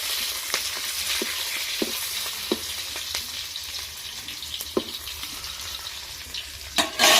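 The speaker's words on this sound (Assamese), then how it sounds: "এইখিনি অলপমান ৰঙচুৱা হোৱালৈ ভাজি ল'ম।" Cumin, ginger, garlic and onion fry in a pan with a steady, dense sizzle, and occasional stirring scrapes and taps of a spoon sound close by and alone.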